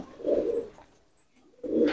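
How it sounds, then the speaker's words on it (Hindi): Deobandi pigeons give low, soft cooing calls in two bursts with a quiet gap between, close by and outdoors with no talk over them. "ये देवबंदी कबूतर है।"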